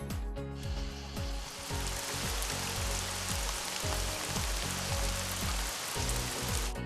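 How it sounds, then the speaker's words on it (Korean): Steady recorded rain played as calming white noise, a dense broadband hiss of drops on a surface that runs continuously and evenly at moderate level, with a faint low rhythmic pulse beneath and no voices. "빗소리,"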